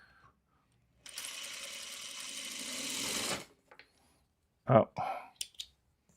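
A home sewing machine runs in a steady whirring burst, then stops as the bobbin thread breaks, followed by a few faint clicks and a brief spoken exclamation.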